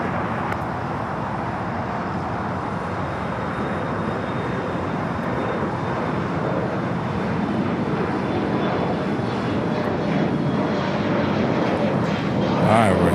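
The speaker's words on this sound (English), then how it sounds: "the Stars and Stripes Dreamliner up next" A Boeing 787-10 Dreamliner in Stars and Stripes livery at LAX gives a steady, broad jet roar that stays loud and even throughout and swells a little near the end, with faint talk in the background.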